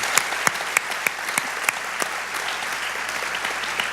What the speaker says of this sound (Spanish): Dale un fuerte aplauso al Señor por esa verdad